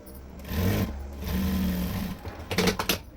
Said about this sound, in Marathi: ह्या साईडला सुद्धा आपण तशी शिलाई मारून घेणार आहोत